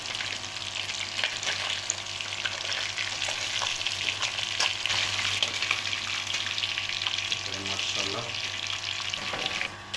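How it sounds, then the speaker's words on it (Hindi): Village-style fish pieces fry in oil for a masala fish curry, giving a steady, moderately quiet sizzle throughout, with one brief spoken word over it. "तो इसे भी हम फ्राई कर लेते हैं"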